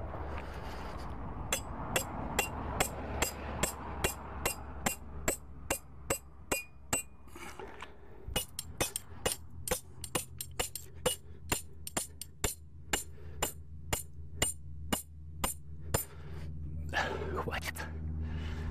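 Repeated sharp hammer blows driving fishing rod stakes into the ground on a Dniester riverbank, a long regular series of close, ringing strikes with a brief pause midway, and people talking at points.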